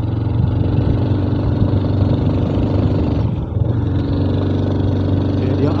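A motorbike engine runs steadily and close by throughout, a low, continuous drone with a brief dip near the middle, on a ride toward a hilltop spot.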